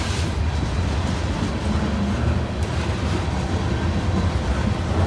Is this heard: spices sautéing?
no